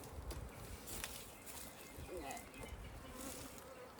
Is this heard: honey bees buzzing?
yes